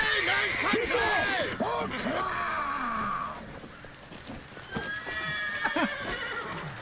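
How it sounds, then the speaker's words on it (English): Horses neigh and whinny repeatedly in The Witcher video game, shrill calls rising and falling over hoof clatter and battle noise, loud and agitated, with a voice speaking over them. "The horses are going fucking nuts."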